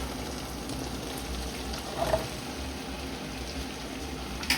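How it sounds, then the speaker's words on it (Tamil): Green beans, carrot and potato sauté in a pan for Tamil-style sambar rice, giving a soft, steady sizzle throughout with a couple of faint clinks near the middle and the end. "இந்த க்ரீன் பீன்ஸ், இந்த பீன்ஸ், கேரட், பொட்டேட்டோ அதில் வந்து நான் இதில் சேர்க்கிறேன்"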